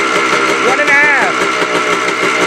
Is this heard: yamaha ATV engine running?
yes